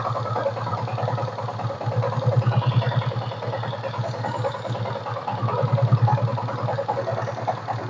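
Steady idle of a Yamaha Sniper 155 motorcycle engine with a cooling-fan problem, a low, even putter that pulses slightly in two swells, close by and running alone.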